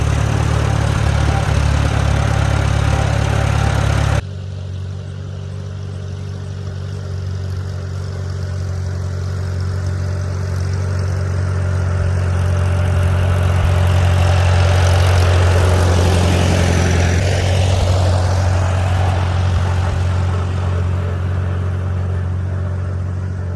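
Farmall A tractor engine running steadily in second gear at about one-third throttle, a loud low idle-like drone that shifts and swells slightly through the middle before settling, with no talk over it.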